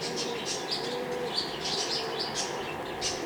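Domestic pigeons being flown with a black bag give soft, repeated chirps and wing flutters close by, a few short bursts over steady outdoor background noise.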